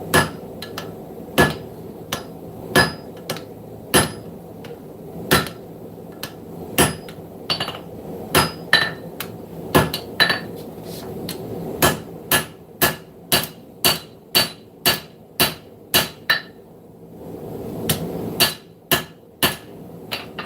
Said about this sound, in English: Make sure that you're forging it back down into there, the material